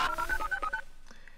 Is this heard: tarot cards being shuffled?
no